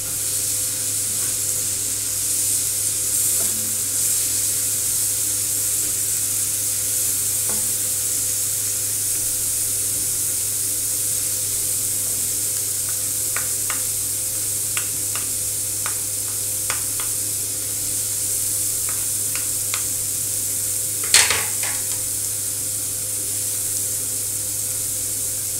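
Eggs sizzle and fry on a hot tawa for dhaba-style scrambled egg, a continuous even sizzle with occasional scraping and tapping of a utensil against the pan and one sharper clink near the end.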